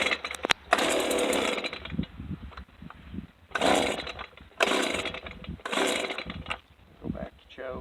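Stihl BG55 handheld leaf blower, two-stroke engine bogging during carburetor tuning, loud and close: the engine surges and sags in repeated bursts over a steady idle, with voices speaking in between.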